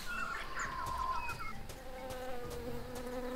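A wasp in Tales of Monkey Island buzzes in a close, steady drone with wavering pitch, heard on its own with faint clicks.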